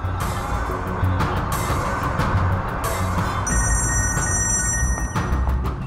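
A telephone rings on and on with nobody answering, its electronic tone standing out over a low, rumbling background bed for the last few seconds.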